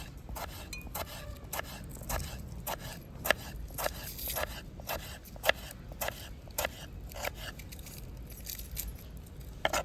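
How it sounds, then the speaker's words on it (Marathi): Knife cutting tomatoes into thin long strips on a board, village-style kitchen; a steady run of quick, close, sharp taps and scrapes with no talking. "आता आपण टमाट्याचे पण बारीक बारीक लांब लांब काप करून घेणार आहोत"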